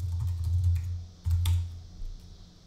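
Computer keyboard typing in quick irregular bursts of clicks over a low steady hum, fairly close and moderately quiet, with a short pause partway through.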